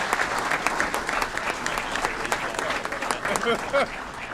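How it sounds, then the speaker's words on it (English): Steady applause from an audience at a council committee meeting, dense clapping throughout, with a few brief voices poking through near the end. "Round of applause, Dr. Adrian Talley."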